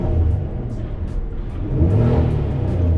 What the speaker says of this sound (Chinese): 哇 ，V6 引擎很澎湃那个声音。